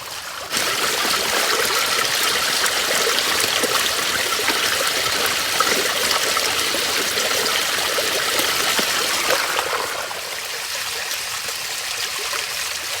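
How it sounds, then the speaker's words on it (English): Water pours and trickles steadily through a garden aqua basin water feature among boulders and water lettuce, a loud continuous close rush that eases slightly near the end, with no talking. "the water noise is going to be really loud here"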